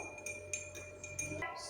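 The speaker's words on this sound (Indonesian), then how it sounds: "Lalu kita aduk menggunakan sendok." A spoon clinks against a glass of tea several times in a quick, uneven rhythm, light metallic taps close by over a low background hum.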